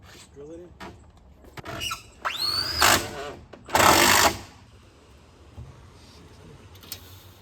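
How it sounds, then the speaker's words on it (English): A power drill whirs in short bursts while fastening during construction of a mobile toilet, with a rising whine and a louder, longer run, alongside talk and clattering workshop noises. "Yeah, just drill it in."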